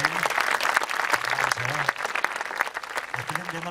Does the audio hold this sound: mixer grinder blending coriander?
no